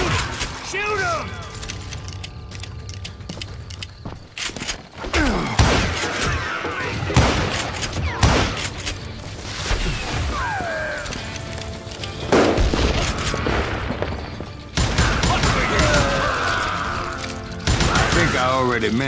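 Gunfire in a Call of Juarez Gunslinger saloon shootout: rapid repeated revolver and rifle shots with booming reports and shattering debris, loud and close throughout, mixed with game music and occasional shouting voices.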